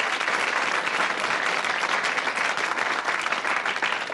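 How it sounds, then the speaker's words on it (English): Studio audience applause on a 1984 British TV quiz show, dense continuous clapping from a crowd, loud and steady throughout with no voices. "and give them a round of applause."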